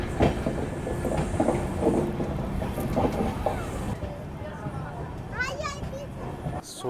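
A train pulls into Sakri Junction railway station in Bihar with rolling rail clatter, amid a busy crowd; voices and children's chatter sit over the steady rumble, with a brief high squeal near the end.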